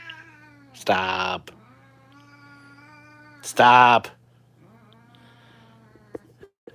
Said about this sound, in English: It's a grumpy cat.